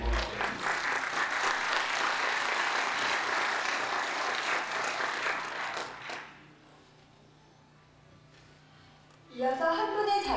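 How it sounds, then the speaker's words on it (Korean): An audience at a book launch in the Sejong Hall of the Sejong Center claps in a dense, steady round of applause for about six seconds, then it fades to near silence before a voice speaks. "뜨거운 박수로 한번"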